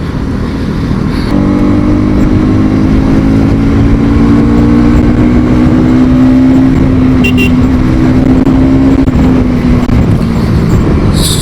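A 2025 Bajaj Pulsar NS200 200cc motorcycle cruises in fourth gear through busy road traffic, its engine a loud, steady drone that slowly climbs in pitch, with wind rush and no talking.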